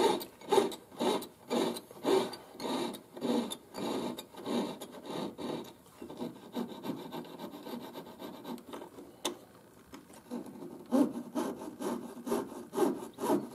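A hand saw drawing back and forth through wood in steady, rhythmic strokes, close and alone, pausing briefly midway before resuming the regular rasping cuts.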